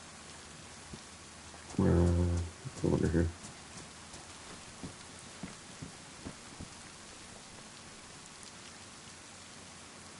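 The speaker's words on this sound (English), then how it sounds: "It is really raining." Heavy rain in the video game DayZ falls as a constant hiss with scattered drop patter, and a person speaks briefly over it early on.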